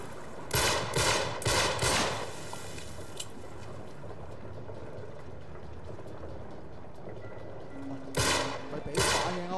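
Rapid bursts of automatic gunfire ring out in an Uncharted 3 firefight, clustered volleys at the start and again near the end with a quieter stretch of background game noise between.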